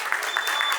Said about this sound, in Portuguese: Faça um barulho para ela, gente. Ao close. Mais aplausos. Mais alto.